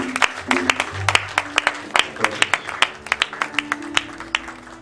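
A church congregation claps in praise, sharp hand claps scattered in an uneven rhythm, fairly close and lively, with a low sustained tone underneath.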